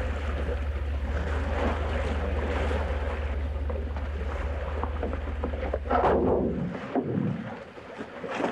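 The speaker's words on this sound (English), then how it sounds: "The barge was towed by tug about 20 miles off Sydney." A tugboat towing a barge at sea about 20 miles off Sydney, with a steady low engine drone under wind and rushing water, ending in a surge of wave noise.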